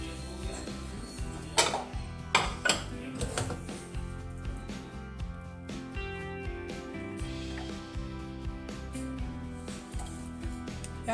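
A spoon stirring masala spice paste and oil together in a bowl for homemade fish fry, with repeated clinks and scrapes against the bowl, a few sharper knocks early on, under a steady low musical background.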